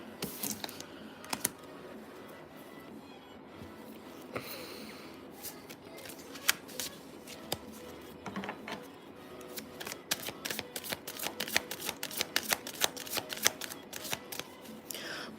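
A deck of unicorn oracle cards is shuffled and cards are pulled for a tarot reading. Dense, crisp riffling and slapping clicks come close up, growing busier and sharper toward the end, with no one speaking.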